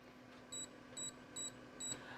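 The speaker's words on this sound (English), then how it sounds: "We're going to set our timer for 20." An air fryer beeps as its timer is set, four short, evenly spaced electronic tones about half a second apart, close and clear over a faint background hum.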